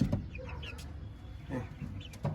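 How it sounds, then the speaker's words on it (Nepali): Giriraj chickens, roosters and hens in a flock, giving a few short clucks and calls that come and go over a low ambient rumble, with no voices. "ल यही हो हाम्रो गिरिराज भाले"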